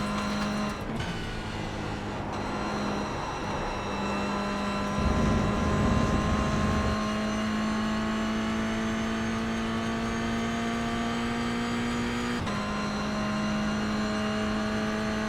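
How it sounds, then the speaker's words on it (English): Mazda MX-5 lapping Oulton Park circuit, its engine droning steadily in-car with a rough scrubbing roar from the tires midway as speed bleeds off, then the engine note resumes and shifts near the end. "So you can really hear it in this car that speed gets scrubbed."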